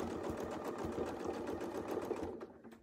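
A sewing machine quilts a circle in fabric, running in a fast, continuous burst that stops just before the end, close but fairly soft.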